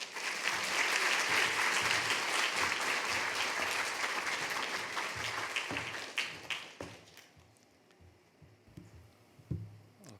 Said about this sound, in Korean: 우리 나오실 때 한번 크게 박수함으로 환영하겠습니다.